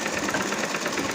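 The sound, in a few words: sewing machine stitching a kameez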